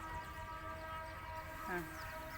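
A train rumbles past at a distance with a steady low roar, a brief whistle-like tone rising partway through.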